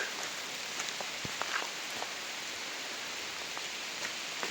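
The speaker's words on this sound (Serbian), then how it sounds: "I pred kraj hvata nas je malo pljusak." Light rain patters steadily on surfaces, a soft even hiss dotted with scattered drips, fairly faint and with no voices.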